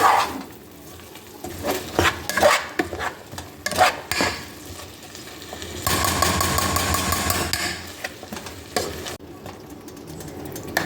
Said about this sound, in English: Get this all mixed in a little bit before I add in the beef broth.